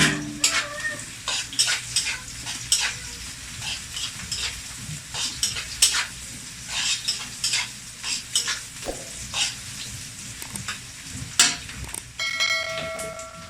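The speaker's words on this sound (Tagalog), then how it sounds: "Gisa-gisa muna tayo ng bawang, sibuyas" Garlic and onion sautéing in a hot pan with a steady sizzle, broken by repeated clattering strokes of a utensil stirring against the metal, with no talking.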